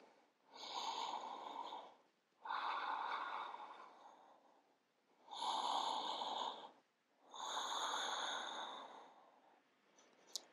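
Four slow, deep breaths during a yoga pose, each a long airy inhale or exhale lasting about two seconds, with short quiet gaps between them, close and soft.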